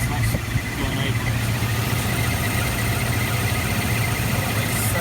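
A Rover SD1 V8 engine idles steadily during tuning, a low, even rumble with light mechanical vibration and a faint voice over it.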